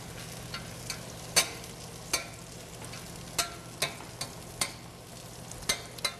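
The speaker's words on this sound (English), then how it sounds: "And let that butter get melted." Butter melting in a hot pan on a stovetop, a soft steady sizzle with scattered sharp pops and crackles at irregular intervals, close and fairly quiet, with no talking.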